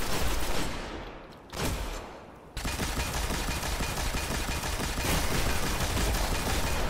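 Automatic gunfire from a weapon in the video game Destiny, loud rapid bursts that dip briefly into quiet before resuming as a continuous heavy barrage.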